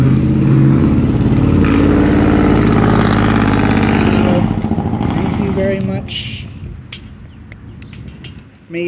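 A vehicle with a noisy exhaust roars loudly close by, its engine rumble holding strong before fading as it passes away, while a person talks nearby.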